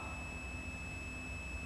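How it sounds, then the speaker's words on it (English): Continuity buzzer sounding steadily while an electric motor's coil pins are tested, a constant electronic tone held for the whole moment over a low hum, with no speech. "if the buzzer sound, then the pin represents one coil"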